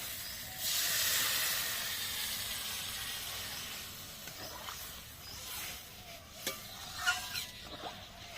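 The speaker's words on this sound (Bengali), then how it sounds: "এবার দিয়ে দেবো পরিমাণ মতো জল" Water poured into a hot pan of fried cauliflower and potato for a boal fish curry sets off a loud sizzling hiss that slowly fades to a softer simmer, with a few light clinks of stirring near the end.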